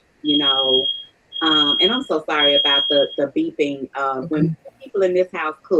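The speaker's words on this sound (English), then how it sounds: "For some reason, my alarm always goes." A smoke alarm beeps in a house where people cook, a high steady tone sounding in short repeated bursts beneath continuous speech.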